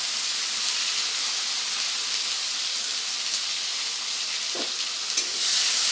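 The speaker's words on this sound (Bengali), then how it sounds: "এবারে টমেটোটাকে খুব ভালোভাবে ভেজে নিতে হবে।" Chopped tomato fries in oil tempered with nigella seeds and dried chilli for a Bengali tangra fish dish, an even, loud hissing sizzle held throughout with a couple of soft stirring knocks near the end.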